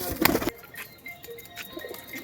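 Cooing of pigeons, high-flyer birds kept for sale, with a brief louder burst of calling and wing patter at the start. Soft, faint coos and rustles follow over quiet background.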